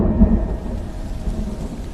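Thunder rumbles low beneath steady heavy rain in a dramatic storm setting, a continuous dense wash of downpour with one stronger crack early on and no voices.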